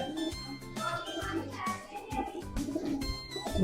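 Pigeons coo in low, repeated throaty phrases close by, several overlapping calls in a steady rhythm.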